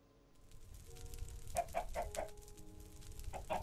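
Chicken clucking in the Minecraft Better Than Wolves mod, a short run of four quick, clear clucks in a row, then another cluck near the end, over a steady low game background.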